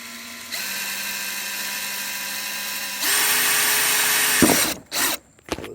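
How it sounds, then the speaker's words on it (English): A power drill whines steadily at close range drilling holes in an RV fender, its pitch shifting as it bites harder, then winds down and stops with a few short bursts. "just get a drill, center it on the hole, a little pressure."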